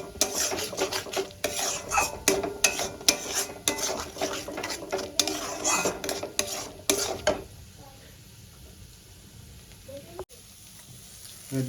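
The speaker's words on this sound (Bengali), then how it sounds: "খুব ভালো করে আমি কষাবো" Rui fish masala being sautéed in a pan over a low gas flame, with steady scraping and stirring of a utensil against the pan over soft sizzling, then quieter with a single clink near the end.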